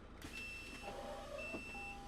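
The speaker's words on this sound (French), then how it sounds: "il y a un bip de porte qui s'active à chaque fois qu'on appuie sur le bouton de porte" Thin electronic door-warning beeps sound in short tones at each press of the door button, a few repeating against a quiet S416UL vehicle interior background with faint rumble.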